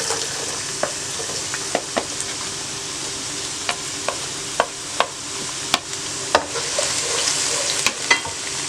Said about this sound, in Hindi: पैन में आधा कप ऑयल गरम करें और उसमें प्याज डालें।